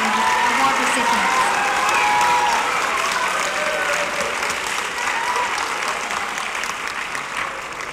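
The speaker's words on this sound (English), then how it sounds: "Let's clap one more time for these Presidential Academic Achievement Award recipients." Loud, sustained applause from the audience at an elementary school fifth-grade graduation, dense clapping with some cheering that holds steady and eases slightly toward the end.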